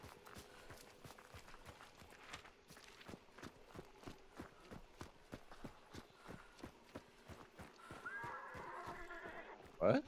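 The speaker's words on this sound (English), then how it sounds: "Horse too." A horse in the video game Hunt: Showdown clatters along in a rapid, steady run of hoofbeats, ending in a sharp snort or whinny.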